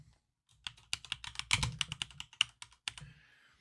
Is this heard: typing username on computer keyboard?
yes